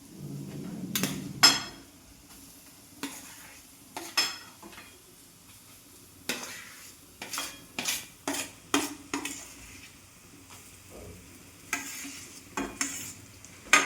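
Mashed potato stirred into a spice mixture in a pan while making green pigeon pea kachori, with a spoon scraping in uneven strokes and soft sizzling at moderate volume.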